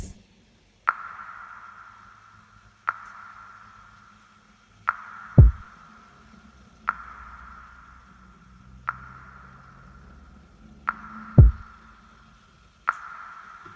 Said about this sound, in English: The pattern of kick and snare sounds like this.